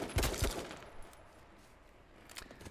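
Bursts of gunfire in the battle royale video game H1Z1, a quick cluster of close shots at the start followed by a few fainter, scattered shots over quiet background.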